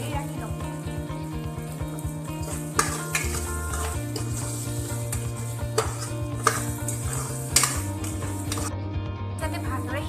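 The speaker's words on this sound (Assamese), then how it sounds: "এইখিনি ভালদৰে লৰাই হোৱাৰ পিছত এতিয়া মই ইয়াত আলুখিনি দি দিম" Spices sizzling in a cooking pan for a plantain curry, stirred with steady rhythmic scrapes and light metallic clinks over a constant frying hiss, close and moderately loud.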